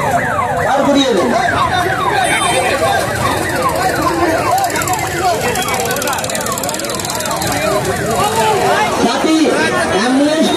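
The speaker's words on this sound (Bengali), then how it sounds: "অ্যাম্বুলেন্স আস্তে আস্তে বার করিয়ে দাও" An ambulance siren wails in rising and falling sweeps as it edges slowly through a dense street protest crowd, loud and continuous above steady crowd chatter and shouting voices.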